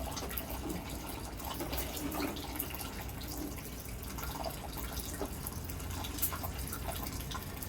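Clothes being washed by hand under running water, steady trickling and dripping with faint splashes and rubbing, continuous and fairly quiet.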